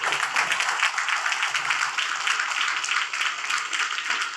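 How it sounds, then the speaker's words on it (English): Congregation clapping in a church during a sermon, a steady dense patter of many hands sustained evenly throughout at moderate loudness, with no voices over it. "Your clap smacks of jealousy."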